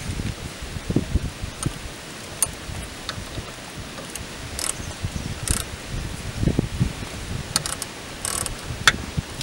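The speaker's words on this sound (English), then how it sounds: "I went ahead and actually grabbed a ratchet wrench for the top part" Ratchet wrench tightening a sway bar link nut on a Buick LeSabre, a busy run of close, quiet mechanical clicks and metal rustles going on irregularly throughout.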